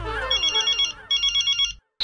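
A telephone rings with a rapid electronic trilling tone in two bursts, separated by a brief gap, close and clear, then cut off abruptly.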